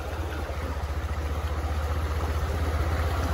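A motorbike engine runs steadily at a low idle after water has entered its silencer, with a fast, even pulsing throb close by and no voices.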